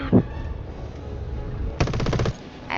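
Machine gun fire from a tail gunner in the War Thunder flight game: a sharp burst near the start, then a dense rapid-fire stream of evenly spaced shots midway, with another burst starting at the end, loud over steady engine drone.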